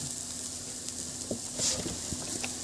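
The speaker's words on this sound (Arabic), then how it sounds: "وهقلب عشان تاخد لون مع البصل." Onions frying in a pan are turned over, producing a steady sizzle with a few faint scrapes and taps of a utensil against the pan.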